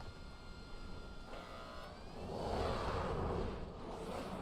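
Airplane ride in the Warzone video game: a steady, moderately quiet aircraft engine drone with whooshing wind that swells louder in the second half.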